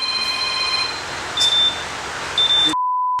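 A phone sounds two short, bright beeps a second apart, then a steady tone at the very end, over a low background hum.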